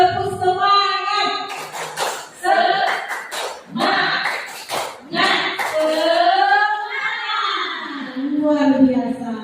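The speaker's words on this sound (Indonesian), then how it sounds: "Sekarang coba kita tepuk semangatnya Bapak Ibu." An audience of adults at an Indonesian school workshop claps a rhythmic spirit clap, bursts of claps mixed with loud chanting and voices throughout.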